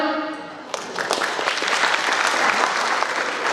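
Audience at a stand-up comedy show bursts into applause after a brief quieter start, the clapping dense, steady and close for the rest of the moment.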